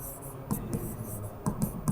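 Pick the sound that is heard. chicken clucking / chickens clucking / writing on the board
writing on the board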